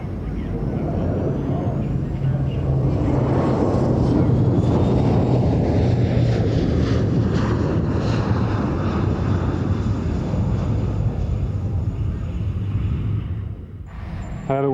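A loud, steady roar of jet engines fills the air as an Avro RJ70 airliner passes close by at an airshow, the broadband rumble holding for the whole stretch before easing near the end.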